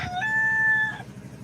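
A rooster crows once, loud and close, a single drawn-out call about a second long with no talk over it.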